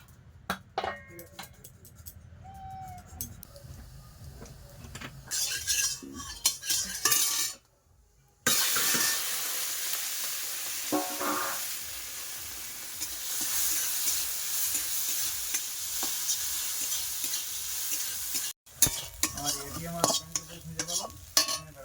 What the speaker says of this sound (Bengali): আর এখন চিংড়ি মাছটাকে ভাজবো